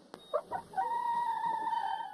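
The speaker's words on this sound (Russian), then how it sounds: "На борту у Матео 2 курицы." One of two chickens kept aboard an eco-friendly sailing boat gives a couple of short clucks, then a long drawn-out crow that fades at the end, faint and close, with no talk.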